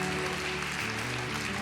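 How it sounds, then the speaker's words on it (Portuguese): Church congregation applauding during a Portuguese-language service, a continuous wash of clapping mixed with sustained musical tones underneath, steady and moderately loud throughout. "Queria pedir para a igreja dar uma salva de palmas."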